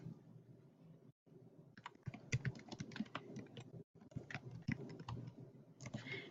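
An artist's name is typed on a computer keyboard in rapid bursts of crisp key clicks, with two brief pauses between runs, close and fairly quiet.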